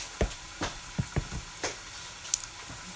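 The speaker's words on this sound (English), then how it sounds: "you overhearing that extra sizzle. That extra sizzle means, yeah, your pot needs some water." A pot of cabbage steaming over brown rice is drying out and hisses with a steady sizzle. Several sharp crackles and pops rise above it, with no voices.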